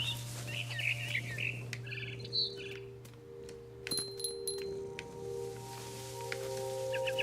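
Bird chirping in the game What Remains of Edith Finch: a small bird gives quick, bright twittering calls in short bursts over a steady low ambient hum, with a few soft clinks and rustles around it.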